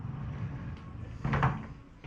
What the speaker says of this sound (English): I love these sliding doors.